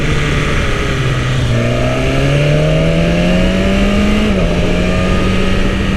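BMW S1000 motorcycle engine droning loud and close under heavy wind rush, its pitch stepping down through gear changes, with no talk.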